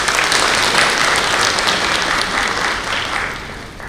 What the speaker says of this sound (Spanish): muy fuertes los aplausos, por favor